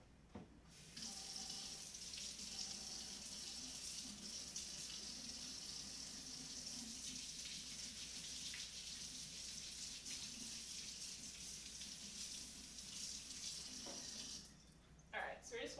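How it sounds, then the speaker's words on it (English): Running tap water pours steadily into a sink as a carrot and celery are washed beneath it, the flow continuing for several seconds before cutting off near the end. "so we just washed our carrot and our celery"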